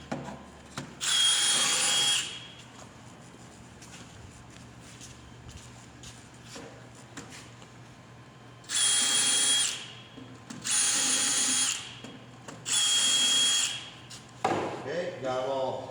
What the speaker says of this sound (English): got them all drilled